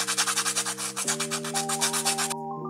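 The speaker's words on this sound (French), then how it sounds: "on essaie de tourner le plus possible le fusain pour que ça soit bien circulaire" Nitram charcoal stick being turned and rubbed to a round point, a steady rhythmic scraping rasp repeating about every quarter second, close and alone over a faint steady hum, stopping near the end.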